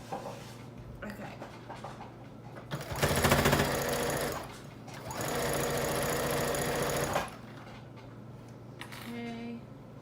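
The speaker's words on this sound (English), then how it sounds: "first I'm going to do a reverse stitch to make sure that it doesn't come undone" A sewing machine runs a reverse stitch on fabric for a DIY couch cover, two loud steady mechanical whirring bursts of a few seconds each, with quieter handling and a voice around them.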